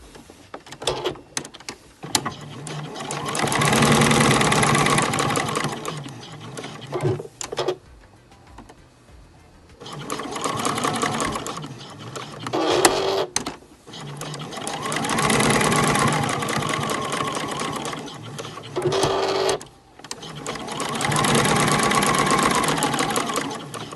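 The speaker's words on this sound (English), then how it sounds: "I'm just going to take it over to the machine and sew down the outside raw edge of" A sewing machine stitches down the raw outer edges of fabric scrap and denim pieces, running in several long loud bursts of fast rhythmic whirring, separated by short pauses with handling clicks.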